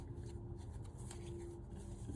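Tarot cards being shuffled in a quiet room, a soft continuous riffling and sliding of the deck over a low background rumble, close and faint.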